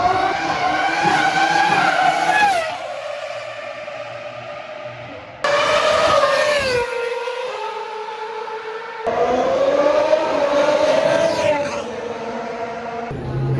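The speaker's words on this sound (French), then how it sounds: "pouvoir les voir tourner sur le circuit" Vintage Ferrari Formula 1 single-seaters lap a racing circuit, three loud high-revving engine passes rising and falling in pitch as each car screams by close, separated by brief lulls of fading engine noise.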